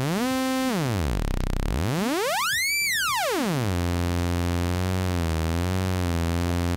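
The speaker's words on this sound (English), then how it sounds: "right now we're just hearing the sawtooth wave from this oscillator." A cheap VCO synthesizer oscillator putting out a raw sawtooth wave, loud and buzzy, its pitch sweeping down, then up high and back down before settling into a steady tone with slight wobble, alone without talk.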